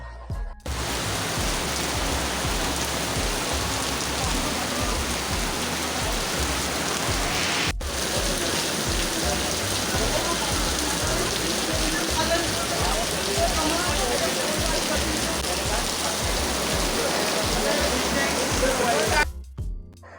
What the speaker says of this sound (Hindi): अभी तो बस स्टार्ट हुई थी बारिश